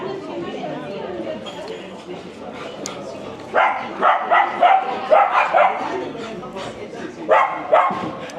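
Dogs bark in several short bursts on a street, fairly close, with people talking in the background throughout.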